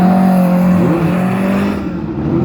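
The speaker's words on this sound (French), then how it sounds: "Une autre Alpine, mais cette fois c'est une A110 de 1971" A 1971 Alpine A110 with a Renault R8 Gordini engine and five-speed gearbox, at a historic hill climb event, passes close and loud with a rising then falling engine note, fading slightly toward the end.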